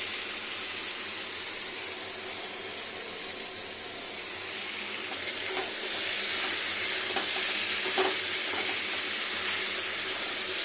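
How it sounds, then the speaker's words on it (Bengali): Carrots, beans, eggplant and potatoes fry in a kadai for a vegetarian curry, a continuous soft sizzle that grows a little louder midway, broken by occasional spatula scrapes and clinks. "কি সুন্দর ভাজা ভাজা হলো। আর কড়াইটা না অনেক পুড়বে"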